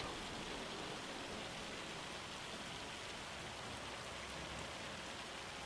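Rain falls on a farm in the Farming Simulator 25 video game, a soft, steady hiss of drops spread evenly across the whole span, fairly quiet and unbroken, with no talking.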